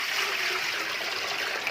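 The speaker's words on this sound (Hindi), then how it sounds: "यहाँ एक बड़ा पतीला ले लिए, इसमें हम पानी डाल देंगे।" Water pours steadily into a large cooking pot, a continuous close, loud rushing trickle with no talk over it.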